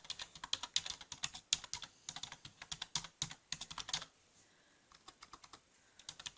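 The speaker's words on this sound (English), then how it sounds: "I'm going to type write 5 Valentine messages." Rapid typing on a computer keyboard, close and clear, with bursts of quick key clicks that pause briefly near the end before a few more keystrokes resume.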